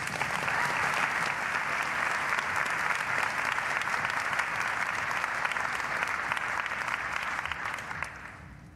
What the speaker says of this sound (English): Please give a warm round of applause to Ms.